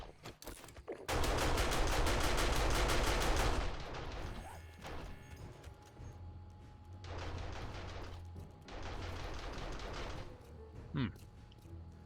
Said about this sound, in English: Oh, they're already shooting.